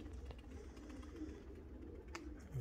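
Pigeons coo softly in the background at a pigeon-flying competition, low murmuring calls over steady outdoor ambience, with no talking.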